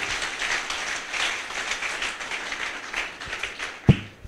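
A church congregation applauding during a sermon, a dense wash of many hands clapping at once, continuous and fairly close, swelling and easing slightly over a few seconds with a sharp thump near the end.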